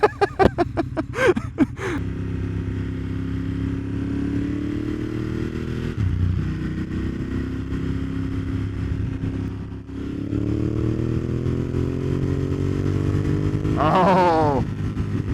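A Ducati Monster 1200S motorcycle accelerates hard on a highway with a quick shifter, its engine droning loudly and steadily through upshifts, with short revving bursts at the start and a rising rev near the end.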